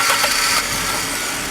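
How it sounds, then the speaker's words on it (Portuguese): A Fiat Tempra's engine catches after cranking and settles into a steady, close mid-pitched idle with a faint mechanical rattle, no voices heard. "Dê partida no motor"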